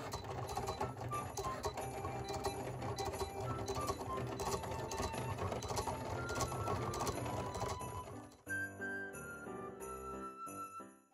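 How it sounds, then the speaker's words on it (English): A Cricut Explore 3 cutting machine cuts a graphic with a continuous close mechanical whir and rapid ticking carriage movements for about eight seconds, then slows into sparser clicks and softer motor sounds. "I'm going to send this to my Explore 3 and get cutting it so I can put it on my cookie jar."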